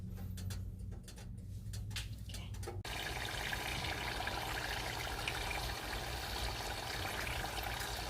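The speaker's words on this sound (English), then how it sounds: "my oil is already hot and I'm using this pot just to make sure I'm not going to have a lot of splash when I dip down my spring roll" A pork spring roll lowered into a pot of hot oil sets off a sudden, steady, loud frying crackle and hiss after a few seconds of quiet, faint bubbling.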